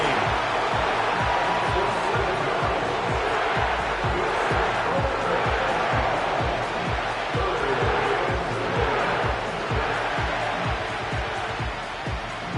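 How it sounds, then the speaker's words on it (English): Crowd in an American football video game: a continuous wash of stadium roar and cheering, fairly loud and steady throughout, with a regular low thumping beat underneath. "This crowd turning up the decibel level."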